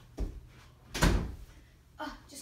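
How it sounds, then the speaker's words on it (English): A bedroom door is pushed shut with a single solid thud at about the one-second mark, preceded by a softer bump and followed by faint rustling, close by and otherwise quiet. "Just close my door."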